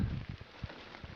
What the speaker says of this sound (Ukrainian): У нас вже почався дощик.